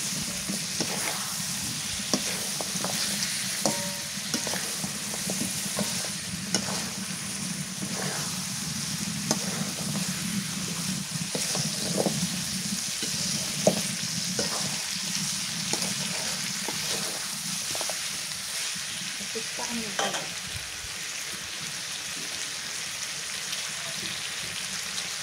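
Beef, previously frozen, fries in a spice masala in a pan on a village clay stove, giving a steady close sizzle with intermittent scraping and stirring clatter throughout.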